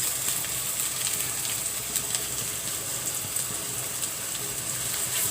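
Ginger garlic paste frying in a pan for a prawn bhuna, with a steady, even sizzle that runs on its own throughout, close and moderately loud.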